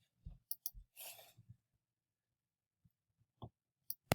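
Sharp computer mouse clicks, a few spaced taps near the start, a pair in the middle, and a couple more at the end, close and crisp with quiet gaps between.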